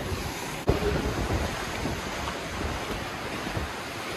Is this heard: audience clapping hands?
no